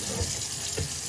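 Cold tap water runs steadily into a kitchen sink while a rack of ribs is rinsed, a continuous close splashing hiss with a couple of slightly heavier gushes.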